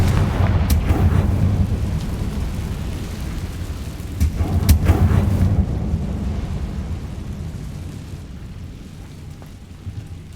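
A Confringo blasting curse goes off in Hogwarts Legacy. It lands as a loud, rumbling explosion with a couple of sharp cracks, and the deep roar slowly dies away over about ten seconds.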